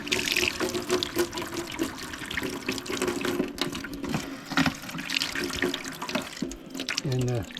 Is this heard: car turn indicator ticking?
no